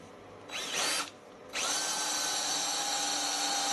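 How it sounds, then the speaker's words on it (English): A power drill bores a new hole through a steel plate on a weld positioner. It gives a short high whine, pauses briefly, then starts again and runs steadily, close and loud, with no voices. "I need to drill a new hole there."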